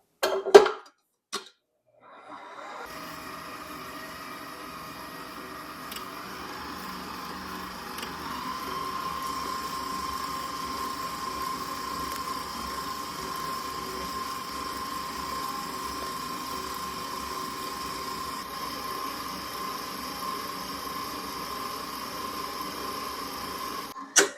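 An electric mixer whirs steadily as sugar and room-temperature eggs are beaten together in a bowl for gluten-free vanilla cupcakes, a constant mechanical hum after a few brief knocks at the start.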